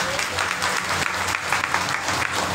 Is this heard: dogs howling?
no